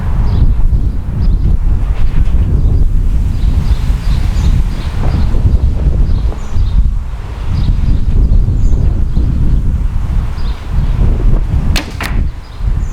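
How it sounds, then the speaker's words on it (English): Strong wind rushes and buffets the microphone outdoors during a compound bow shot with a Sanlida Hero X10, a loud continuous roar that swells and dips, with a couple of sharp ticks near the end. "there was a fair bit of wind in that shot"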